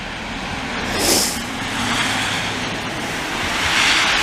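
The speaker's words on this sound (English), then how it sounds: "it's a tow truck with a V8." A V8 tow truck drives past on a city street in the evening, its engine rumble swelling and receding with a brief hiss-like burst, heard from the sidewalk.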